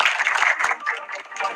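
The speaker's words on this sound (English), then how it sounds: "Round of applause again, please." Applause fills a pageant coronation night hall, with dense, steady clapping from a crowd throughout and no voices.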